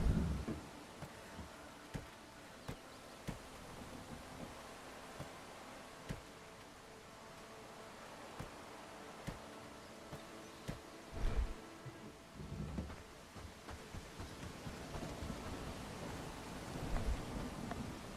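Rain falls steadily in the medieval game Bellwright, faint and even, with occasional low rumbles of thunder and scattered soft clicks over the wash.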